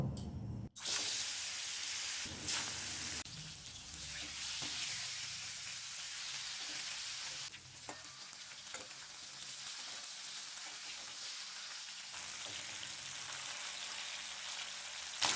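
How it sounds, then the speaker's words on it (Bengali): Singi fish frying in mustard oil in a wok makes a steady, close sizzle with occasional louder spits and scraping stirs throughout, with no talk. "গ্যাসটাকে মিডিয়াম টু হাই ফ্লেমে রেখে তিন থেকে চার মিনিট মাছটা ভেজে নেব"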